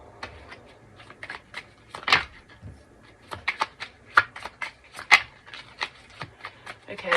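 Tarot cards shuffled by hand in a series of quick riffling bursts and soft card slaps, close and fairly quiet, with brief pauses between shuffles and light speech in the background.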